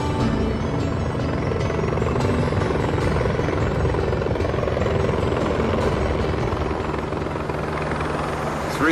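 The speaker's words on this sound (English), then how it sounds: "Three helicopters overhead" Loud, steady rotor noise from three helicopters fills the whole stretch, a continuous thudding drone overhead with no break.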